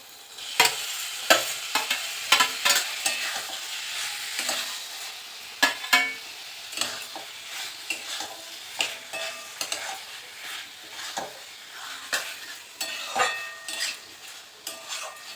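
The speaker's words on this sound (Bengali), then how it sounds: "দিয়ে আবার ভালো করে মশলার সাথে কষিয়ে নিচ্ছি" Boiled elephant foot yam stalks are stir-fried with spices and poppy seed paste, a spatula scraping and clattering against the pan in irregular strokes over a soft, continuous sizzle, with no talking.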